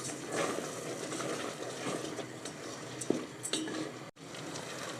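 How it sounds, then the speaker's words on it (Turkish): Spoon stirring bulgur pilaf with tomato paste in a hot pan, a soft steady sizzle with occasional scraping clinks of utensil against the pan. "ve güzelce karıştırıyoruz"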